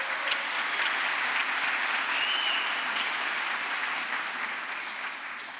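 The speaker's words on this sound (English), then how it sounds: "Give them a round of applause." Steady, even applause from an audience at a community college's State of the College event, a continuous wash of clapping that tapers slightly toward the end.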